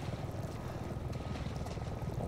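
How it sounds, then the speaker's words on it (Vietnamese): A helicopter drones in the video game Resident Evil 7, a continuous low, throbbing rotor rumble that stays steady and fairly close throughout, with no voices. "Có tiếng trực thăng nha."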